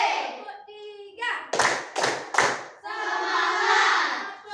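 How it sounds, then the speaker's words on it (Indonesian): Schoolchildren in a classroom clap game: voices chant together, then three sharp group claps in quick succession, followed by more chanting in unison. "kita tepuk dulu anak-anak ya"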